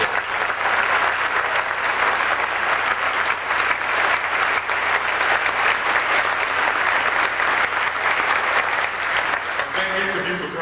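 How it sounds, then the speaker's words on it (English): An audience at a Presidential Scholars Program ceremony gives a long, even round of applause for a GM program sponsor, dense clapping holding steady and loud for about ten seconds before it starts to thin. "So let's give him a big round of applause."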